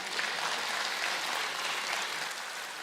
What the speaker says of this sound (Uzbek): Men shu yigitga qarsak bo'lsin bitta yurakdan.